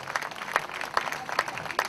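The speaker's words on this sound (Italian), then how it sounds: "Un applauso a Vito." Applause for a former footballer at an award ceremony in Sapri, heard as faint, spaced claps falling into a steady rhythm, with a tonal ring behind each clap.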